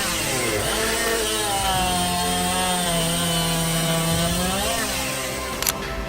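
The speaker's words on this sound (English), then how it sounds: "a powerful chainsaw cutting machine designed for a large-scale tree operation" A big chainsaw cutting machine working through tree wood, a steady loud engine whine with a cut pitch that rises and falls, ending in a brief sharp snap.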